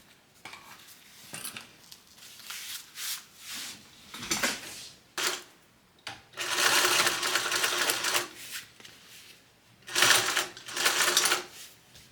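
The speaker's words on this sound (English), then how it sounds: "we're gonna top stitch along here on this back panel piece at 1/8 of an inch seam allowance" A sewing machine top stitches a back panel piece of a train case at an eighth-inch seam allowance, running in several bursts of steady whirring separated by short pauses, close and loud, with no talk.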